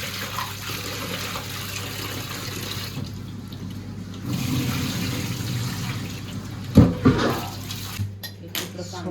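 Water sloshes and splashes as crabs are rinsed by hand, with clattering against a vessel and bursts of running water.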